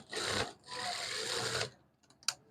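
A sewing machine stitches a suit sleeve cuff, running in two steady whirring bursts, one short and one longer, followed by a couple of faint clicks, quiet and close with no talking.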